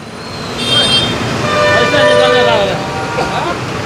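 A dense traffic jam with heavy trucks at Karaswada junction rumbles steadily, with engines idling and rolling nearby and horns tooting intermittently, while a voice speaks over the din.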